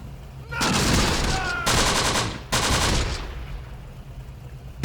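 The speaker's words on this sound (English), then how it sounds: "Nice mortar rounds already." Mortar rounds burst in the Close Combat war game, three loud, close explosive blasts in quick succession, each with a rumbling tail, over a low battlefield background.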